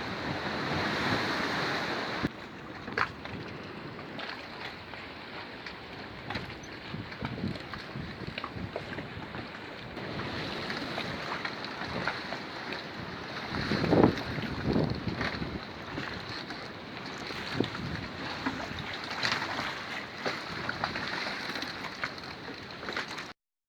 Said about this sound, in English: Waves are coming in now guys.